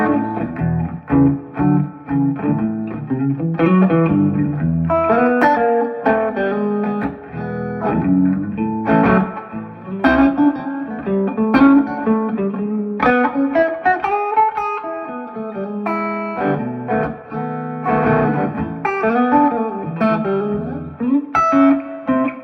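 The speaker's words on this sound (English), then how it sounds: "So here's reverb and a bit of distortion put together." An electric guitar played through reverb and distortion effects, with sustained, ringing chords and single notes that bleed into each other, loud and alone.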